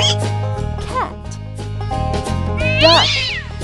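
Cat meowing from a farm animal stacking game, several drawn-out meows rising and falling, ending in a louder high-pitched yowl, close and clear over steady background music.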